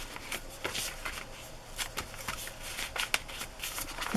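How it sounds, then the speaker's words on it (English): Dyed paper is folded and tucked into a pocket of a junk journal, giving soft, quick crinkles and rustles in short bursts at close range with no talking. "fold the entire piece, and it will be tucked into the pocket"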